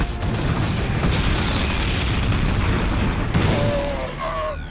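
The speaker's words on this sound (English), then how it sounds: "Widow Mine explosions, I think, are always a strong contender" Widow Mine blasts from StarCraft 2 land as a dense run of booming crashes over constant battle noise, with short tonal game effects cutting in near the end.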